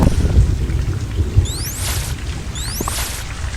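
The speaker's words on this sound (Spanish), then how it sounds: "Tenía que llover justo ahora." Steady rain pours with a low rumbling thunder bed, a loud continuous wash of noise with deep rolling lows and occasional heavier thumps.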